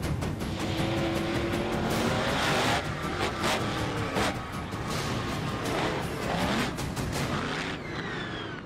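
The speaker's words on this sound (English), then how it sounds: "This particular one is a petrol-driven monster truck" Bigfoot monster truck, petrol-driven with a 572 block engine and turbo 400 transmission on tyres over 5.5 feet high, roaring steadily and loudly throughout, with tire squeal and rumbling drive noise.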